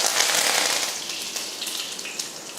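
Mustard seeds and urad dal crackle in hot oil in a kadai. The close, loud sizzle is packed with rapid popping and spitting, easing slightly as it goes on.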